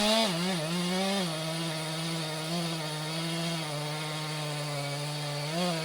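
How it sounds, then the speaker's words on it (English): A chainsaw drones steadily, engine pitch dipping and rising slightly as it bites into towering old forest trees during a felling, loud and close with no talk. "The chainsaw, small in appearance but mighty in power, becomes the tool that bridges human hands and raw nature"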